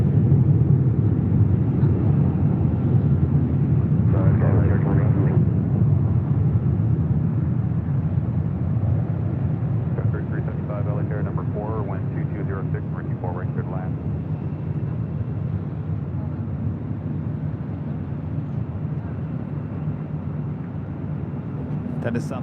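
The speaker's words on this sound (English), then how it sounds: "That is Southwest Airlines Flight 312 in the California One livery, now on the 737-800 heading to Sacramento." A Southwest Airlines Boeing 737-800 in the California One livery departs LAX with a continuous, loud, low jet roar that holds steady throughout, while a voice talks over it at times.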